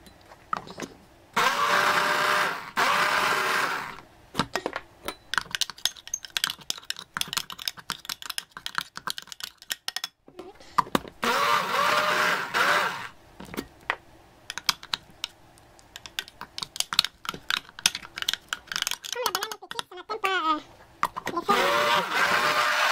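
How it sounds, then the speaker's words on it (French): An electric blender whirs through half a banana and lemon juice for a face mask, running in loud bursts with short pauses between, while a person talks in the gaps. "Donc, j'ai le mixeur."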